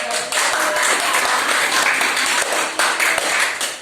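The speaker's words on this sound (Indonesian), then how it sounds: "tepuk tangan dulu dong" A church congregation at a children's and youth Christmas service claps and applauds steadily, a dense, loud patter of many hands sustained through the whole moment with brief dips.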